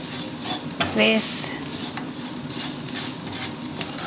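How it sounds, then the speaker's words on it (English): Masala spices with chili powder and salt sizzle and fry in a pan with garlic, ginger paste and onion for a chickpea curry, a steady close crackle with a brief stirring scrape and a word of speech. "And I'm going to fry these all masalas"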